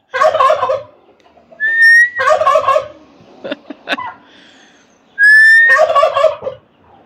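Turkeys, five of them, gobble loudly in two strong bursts near the start and again near the end, with a bright whistle-like call cutting in between and scattered clucks and rustling in the quieter gaps.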